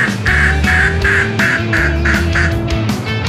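White ducks on a garden pond in Da Lat, Vietnam, quack repeatedly in a steady series of nasal calls over a constant low background hum, close and fairly loud.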